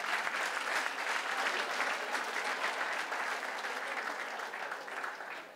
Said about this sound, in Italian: doppio applauso per loro